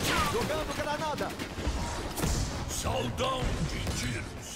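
Gunfire rattles through a zombies round of Call of Duty Black Ops 6, fairly quiet bursts and sharp cracks scattered across the stretch while players talk excitedly over the action.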